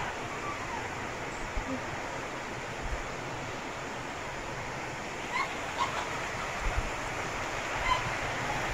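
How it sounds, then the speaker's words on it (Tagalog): A river flows past a campsite in Tanay, Rizal, a broad, steady rushing wash heard close by, with a few faint thumps over it. "Ito ang ilog."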